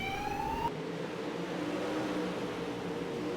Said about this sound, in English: Yes, the sirens are going off